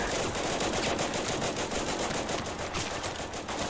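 Soldiers in the video game Total Conflict Resistance fire guns nonstop in a dense, loud barrage of rapid automatic bursts that overlap with no pause.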